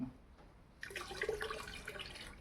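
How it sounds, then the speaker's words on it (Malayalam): Liquid bacterial fertilizer poured from a bottle into a 200-litre barrel, heard as a quiet, close splashing stream that starts abruptly after a near-silent moment and runs steadily to the end. "400 മില്ലിയാണ് ഞാനിപ്പോൾ ഇതിനകത്ത് ഒഴിക്കുന്നത്"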